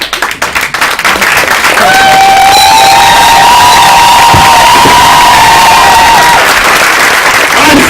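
A comedy club audience in a French-language show bursts into loud, sustained applause and cheering, with a shrill whistle held across the middle of the dense clapping.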